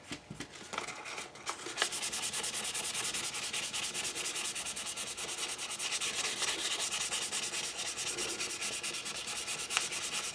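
Steady, close hand-sanding of a wooden gun stock with 400 grit sandpaper, a continuous scratchy rubbing that runs almost unbroken for the whole stretch with no talking.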